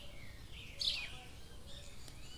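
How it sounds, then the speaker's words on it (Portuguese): Morning birdsong outdoors: one bright chirp stands out clearly, with faint twittering and light background noise around it and no voices. "Olha só o som dos pássaros. Hoje eles estão bem animados."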